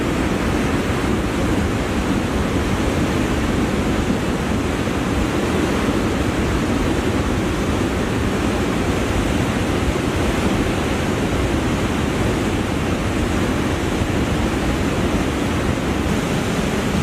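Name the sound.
rushing floodwater in Kullu Manali flood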